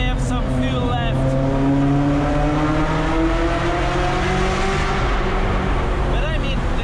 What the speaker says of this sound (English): the sound of a non-aspirated V8